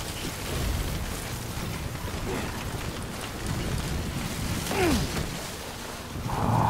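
Steady broadband rush of wind with rain-like hiss in the video game Death Stranding on PS5, continuous and fairly loud, swelling slightly toward the end.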